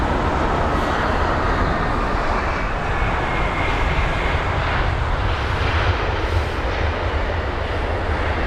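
An Airbus A320 arriving from Geneva lands, its engines roaring in a broad, rumbling wash that holds steady and loud across the whole stretch, heard from inside the cabin.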